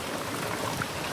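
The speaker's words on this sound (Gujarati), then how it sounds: "અત્યારે વરસાદ ચાલુ જ છે." Heavy monsoon rain pours down in a steady, dense hiss that stays even and close throughout, with no voices over it.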